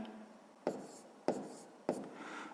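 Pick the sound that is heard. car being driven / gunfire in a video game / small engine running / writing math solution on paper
writing math solution on paper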